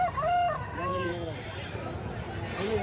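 A rooster crows repeatedly at a country chicken market where farmers sell breed and native birds, with clucking fowl and a babble of buyers' and sellers' voices around it.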